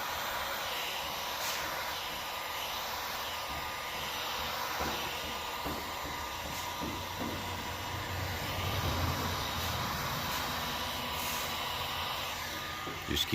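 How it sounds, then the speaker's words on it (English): A heat gun warms window tint film on a 1999 Chevrolet Suburban, giving a continuous airy blowing whoosh that stays steady, with faint clicks and handling noises now and then. "Once he gets it cut, then he gives it some preheat to start molding towards the window's shape with a heat gun."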